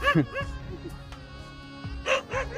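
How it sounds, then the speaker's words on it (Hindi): Several village dogs in India bark and yip in short bursts, fairly close, with a pause in the middle before another cluster of barks. "कुत्ते भौंक रहे हैं, मुझे उनको लग रहा है पता नहीं कौन आ गया है।"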